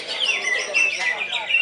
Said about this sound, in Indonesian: ini adalah murai cicak hijau samurai yang punya Akeo Brother SF Aquarium 35.